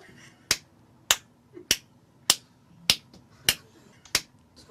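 Seven sharp hand claps sound inside an elevator to choose a floor, evenly spaced about half a second apart, crisp and close in a quiet space.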